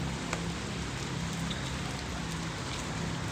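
Rain pours in Ahmedabad, a dense steady patter on surfaces with a few distinct nearby drips standing out, continuous and fairly loud, with no voices.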